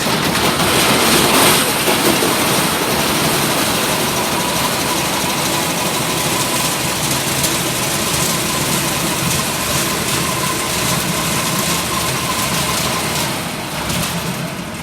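A battery-started engine on a new Econo Screen Stacker topsoil screener runs loud and steady at close range, a continuous broadband rumble with a rougher burst near the start, and no talk over it.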